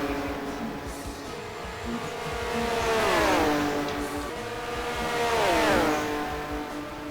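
Porsche 908 race cars sweep past in GTR2 at Monza, two distinct engine passes a few seconds apart, each rising to a loud whine and then dropping sharply in pitch as it goes by.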